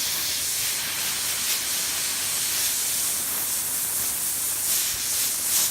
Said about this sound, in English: Now, always when you airbrush